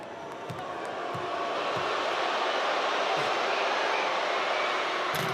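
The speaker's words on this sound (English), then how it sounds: "They're booing loud" A basketball arena crowd at the Women's World Cup final between China and the USA swells into a loud, sustained roar of booing, with dull ball bounces thudding at a regular beat underneath.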